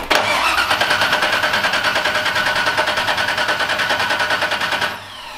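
A BMW E36 fitted with a V8 cranks in a steady rapid rhythm, close and loud, catching and running before dropping off abruptly near the end, with no talking.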